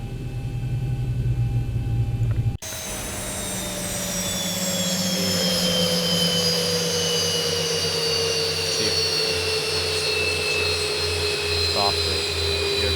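A Boeing 737-800 in X-Plane 11 has its jet engines spool down after fuel cutoff: after an abrupt switch, a loud whine drifts slowly lower in pitch over a steady roaring hum, with someone talking over it.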